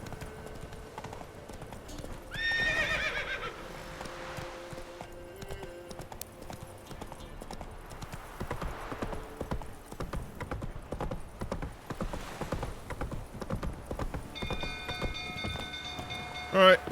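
Horse hooves clip-clopping at a gallop in The Witcher 3, a steady rhythmic beat running throughout under game sounds, with a brief whinny early on and someone talking over parts of it.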